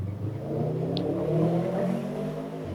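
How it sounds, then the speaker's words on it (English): A car engine revs and hums loudly nearby, its pitch rising and settling over a few seconds before cutting off near the end. "Why does your car need to sound like that?"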